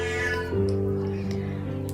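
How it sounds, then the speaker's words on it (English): A house cat meows indoors, one drawn-out, tonal call in the room, fairly close and with no one talking. "That's my cat."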